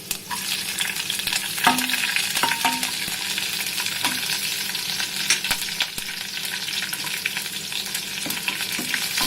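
Chopped green chillies, garlic and ginger fry in oil in a pan with a steady close sizzle, while a spatula stirs them with scattered clicks and scrapes against the metal.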